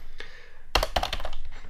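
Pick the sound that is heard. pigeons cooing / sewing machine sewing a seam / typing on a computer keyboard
typing on a computer keyboard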